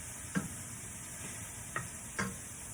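Seasonings for a vegan butter bean and chunky vegetable mix cook down in a pan with a soft, steady sizzle, broken by three brief scrapes of stirring, close and quiet.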